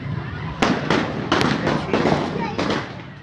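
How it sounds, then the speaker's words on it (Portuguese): Several gunshots fired during an attack on a motorcade, sharp cracks in quick irregular succession over about three seconds amid crowd commotion, fairly close and loud. "o som de vários tiros no momento do atentado"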